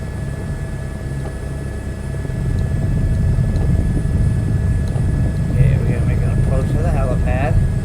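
Helicopter rotor and engine drone in Microsoft Flight Simulator 2024, a steady low hum that swells slightly partway through, with someone talking over it near the end.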